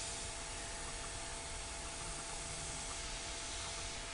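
Airbrush spraying paint to add texture to a skull image: a steady, even hiss of air and paint that runs unbroken at constant level throughout, with no pauses.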